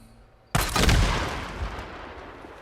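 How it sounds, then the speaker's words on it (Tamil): Cans blowing up after being shot in the video game Days Gone: a sudden loud blast cuts in from near silence, followed by a crackling, rumbling roar that slowly fades. "இதெல்லாம் நம்ம ஷூட் பண்ணி வெடிக்க வைக்கலாம்னு நினைக்கிறேன்"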